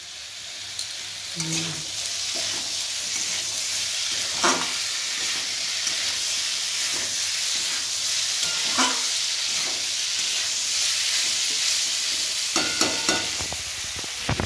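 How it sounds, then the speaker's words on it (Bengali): Paneer curry masala, its oil already separated, stir-fries over a high gas flame with a constant loud sizzle and hiss. Occasional spatula scrapes and clinks against the pan stand out, and no one speaks. "এই যে কষিয়ে নিই, গ্যাসটা একটু বাড়িয়ে দিই।"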